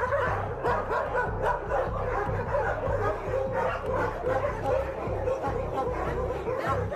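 A crowd of many dogs barks, yips and whimpers in a dense, overlapping chorus at a crowded dog shelter, with a constant low rumble underneath and faint chatter mixed in.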